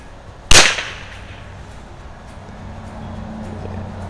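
A single sharp crack from a 1941 Marlin 39a color case-hardened lever-action rifle fired outdoors, loud and close, then a short decay into quiet background hum.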